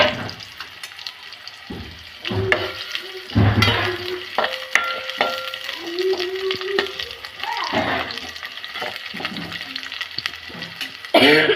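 Onion dropped into hot oil sizzles loudly and steadily, with stirring scrapes in the pan running throughout and a brief burst of voices partway through.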